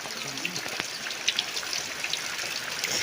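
Steady rain falls on a rainy day, a continuous close hiss with scattered distinct droplet taps and no voices.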